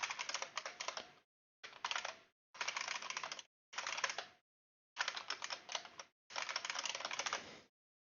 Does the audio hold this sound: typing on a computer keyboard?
yes